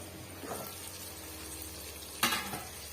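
Six beaten eggs cook in a pan for egg biryani, giving a steady low sizzle with a brief louder burst of frying near the end; no one speaks.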